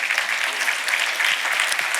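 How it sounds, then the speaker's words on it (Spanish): A church congregation gives a short burst of dense, steady clapping that fills the room evenly from start to finish, with no voices over it. "Dese el aplauso si es gratis."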